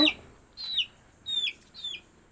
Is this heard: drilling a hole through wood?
no